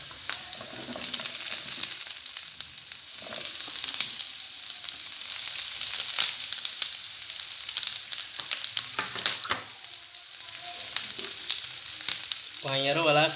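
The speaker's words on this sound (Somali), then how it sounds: "hilibkii xoogaa waan soo yara shiilay hadda waxaa ku darsanayaa basal guduud oo 2 xabba" Meat sizzling loudly in a pan as two chopped red onions are added. A constant, close frying hiss is broken by stirring scrapes, with a brief clattering rattle at the end.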